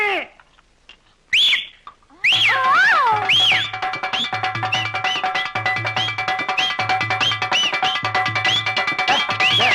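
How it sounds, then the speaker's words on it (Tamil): A person whistles in short, bright, rising notes, loud and close, then keeps whistling over a dense, busy background of other sounds. "டேய் விசில் அடிக்காதடா"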